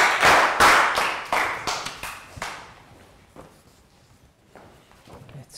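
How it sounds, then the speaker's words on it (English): Classroom applause from a group of primary school pupils, with loud, fairly unison claps that fade out after about two and a half seconds, then a few scattered faint taps. "High five, big round of applause for Pak Bung."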